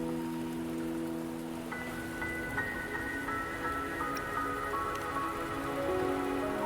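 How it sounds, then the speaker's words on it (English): Steady rain falls in the video game Wuthering Waves, a dense, even patter on surfaces, while soft sustained musical tones hang beneath the downpour throughout. "Don't worry, the rain won't last much longer."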